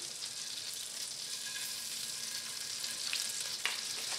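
Garlic paste sizzles steadily in a hot pan, a close, continuous hiss with a few brief scraping clicks from stirring near the end.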